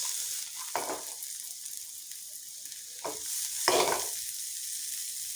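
Ginger, garlic and onions frying in vegetable oil, giving a steady bright sizzle throughout with a few louder swells as the pan is stirred, close and without talking.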